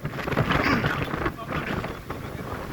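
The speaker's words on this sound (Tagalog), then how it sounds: "lumalakas yung hangin" Strong typhoon wind roars and buffets the microphone in continuous gusts, with a voice faintly audible beneath the rushing noise.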